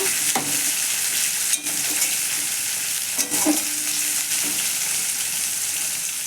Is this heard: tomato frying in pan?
yes